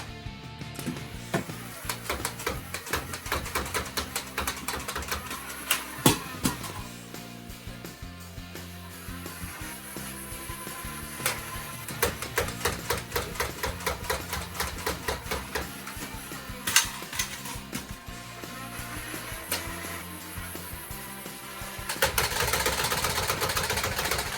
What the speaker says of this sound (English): Now that was the firing of both the Thunderbolt and the Spectrum.